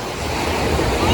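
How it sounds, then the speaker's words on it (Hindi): Water rushing under high pressure beside a hilltop temple in the Rajaji Tiger Reserve, a steady loud roar with close wind and turbulence over the whole stretch and no break. "पानी का प्रेशर आप देख सकते हो कितना है"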